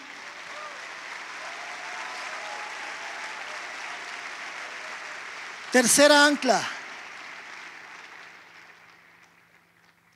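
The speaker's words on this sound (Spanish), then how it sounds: "Dele un aplauso al Señor" A church congregation applauds at a sermon, a steady broad wash of clapping across the whole stretch with a voice speaking briefly over it partway through.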